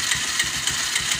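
A Kawasaki Rouser 180 motorcycle engine idles nearby with a steady, regular low-pitched pulsing beat and a faint mechanical rattle.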